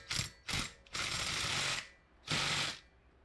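A power tool loosening 12 mm head bolts on a Predator 212 small engine whirs in four close bursts, short ones first, then a longer run and a final one, with no talk.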